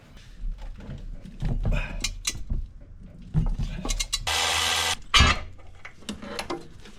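Wrench work on a motor mount bolt in a 1996–2000 Honda Civic engine bay: clanking metal tool contacts, ratcheting clicks and scraping come in irregular bursts, with a dense rattling stretch near the middle, all close by.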